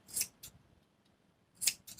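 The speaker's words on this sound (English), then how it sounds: "And then you're going to just cut them straight across," Scissors snip through thread tassels for button earrings, with two crisp close cuts, then a pause, then two more in a quiet room.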